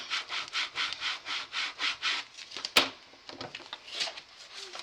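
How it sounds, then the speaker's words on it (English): A scraping tool is dragged repeatedly across the back of a sheet of paper, making a close, steady series of about a dozen rhythmic rubbing strokes with a brief sharp scrape partway through. "scraping tool and scrape this across the back."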